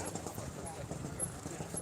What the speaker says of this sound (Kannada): ಕ್ಯಾಪ್ಟನ್ ಕುದುರೆನ ನಾವು ಓಡಿಸ್ತಾ ಇದ್ದೀವಿ